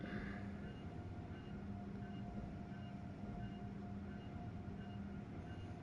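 Amtrak Acela Express high-speed train in Train Sim World 4, a steady low rumbling run with faint tonal hum, continuous and even throughout with no talking.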